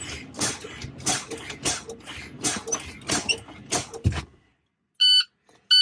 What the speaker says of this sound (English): Low air warning alarm went off at 65 PSI.